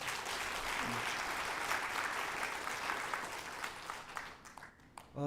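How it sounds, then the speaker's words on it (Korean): Fairly quiet, steady applause from committee members at a sustainability council workshop, continuing for several seconds before thinning out near the end. "위원님들께 다시 한번 박수 부탁드립니다"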